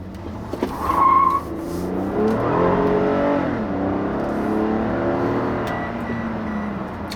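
A 2016 Toyota Camry XLE V6 front-drive sedan accelerates hard, its engine rising loudly in pitch through a sustained pull while the tires squeal briefly near the start.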